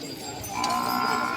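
A bull lets out a single low, drawn-out moo at a village cattle market, close and fairly loud against a faint background murmur.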